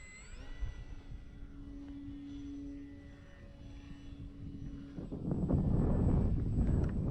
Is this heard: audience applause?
no